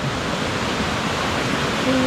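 Lan Sadet waterfall near Kiew Mae Pan in Chiang Mai roars loudly and steadily, a dense, unbroken rush of falling water heard up close.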